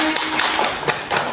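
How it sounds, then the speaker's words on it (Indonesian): Brief burst of applause for a guest speaker at a school guidance and counselling event, with scattered, fairly close hand claps that sound thin and short, with no talking over them. "Aplaus dulu Pak Ube"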